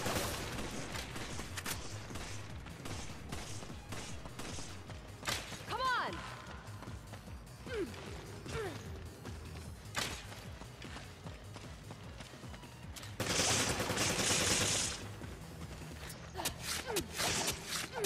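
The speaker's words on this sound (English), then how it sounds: "Gunfire." Bursts of Resident Evil 5 gunfire crackle amid a busy mix of footsteps, impacts and action effects, with a loud burst of shots near the end.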